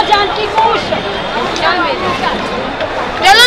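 Dense crowd of pilgrims gathered before the evening aarti at Kedarnath, a steady murmur of many voices close by, with someone talking over the babble.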